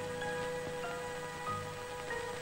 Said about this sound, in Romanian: Am vrut să fac ceva normal și plouă acum torențial.